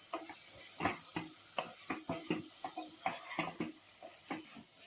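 Paneer pulao being stirred in a pan: faint, rhythmic scraping and clinking strokes of a spoon against the metal, about two or three per second, over a soft hiss.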